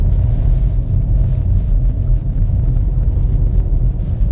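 A Volkswagen car accelerating hard on a snowy road, its engine a loud, steady low rumble heard from inside the cabin, with no change in pitch and no talking.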